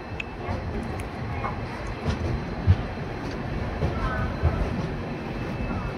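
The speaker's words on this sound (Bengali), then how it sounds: "ট্রেনটা কিন্তু একদম রাইট টাইমে নিউ জলপাইগুড়ি ঢুকিয়ে দিয়েছে।" Garib Rath Express train rolling into New Jalpaiguri station, a steady low rumble of wagons with a few soft knocks and thuds throughout, fairly even and moderately close, no speech.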